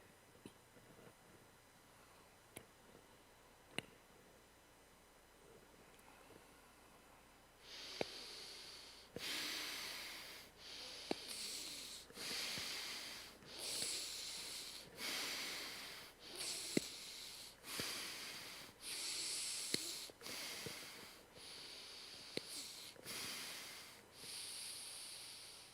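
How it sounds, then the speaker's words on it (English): Deep full-lung breathing during a wellness practice, a long series of slow, loud inhales and exhales close to the microphone, each a rushing breath of a second or two, after several quiet seconds with faint taps. "Do the full lung breathing."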